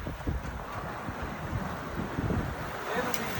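Strong wind gusts buffet a sailboat on open sea during an Atlantic crossing from Bermuda toward the Azores, with rumbling microphone wind noise and low swells of air throughout and no clear talking.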